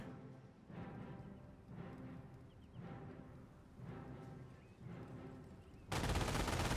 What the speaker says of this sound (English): MG42 fires away, gets some suppression there on the rifleman